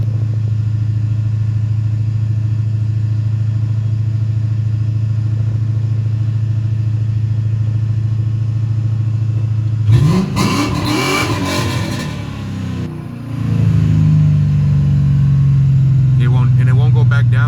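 A car engine idling loudly and steadily jumps suddenly to a high, sustained rev without the gas pedal pressed, then stays raised in a continuous roar; the engine is close and fills the sound.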